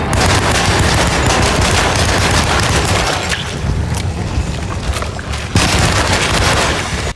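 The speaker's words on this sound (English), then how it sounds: "A Tommy gun!" A Tommy gun blazes in the Alone in the Dark video game, a loud, dense stream of automatic gunfire with booming reports that runs almost unbroken for several seconds before cutting off abruptly.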